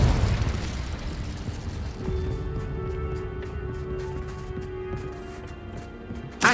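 Confringo blasting spell going off in the Hogwarts Legacy video game: a loud low rumbling boom at the start that fades into a sustained hum, with another sharp burst right at the end.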